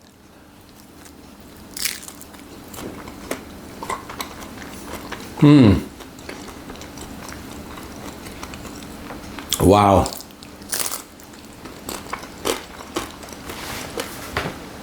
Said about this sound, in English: It's got a nice crunch to it.